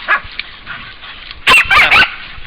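Hunting dogs bark in sharp, loud bursts during a hog hunt in Hawaii, a cluster of three close barks following fainter yips and whimpers.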